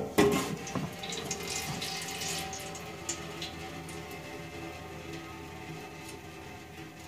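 Motor oil draining from a car's oil pan after a stripped or leaking drain plug, a steady liquid pouring and splashing into a catch pan, louder at first then settling to a constant stream, no talk.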